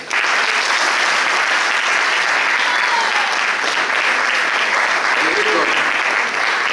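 Dense, loud applause from an audience at a ceremony in Termoli marking the 2024 calendar and 40 years of Difesa Grande, a steady wash of clapping that fills the whole stretch, with a voice faintly audible beneath.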